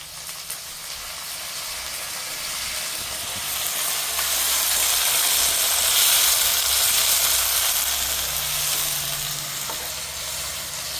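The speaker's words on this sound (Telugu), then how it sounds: "ఇవి చక్కగా గోల్డెన్ బ్రౌన్ కలర్ వరకు ఫ్రై చేసుకోవాలి" Green chillies and curry leaves fry in hot oil for a tempering, giving a steady, close sizzle that swells slightly in the middle and stays continuous throughout, with no voices.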